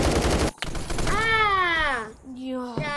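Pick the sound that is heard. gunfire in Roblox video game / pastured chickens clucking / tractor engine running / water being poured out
gunfire in Roblox video game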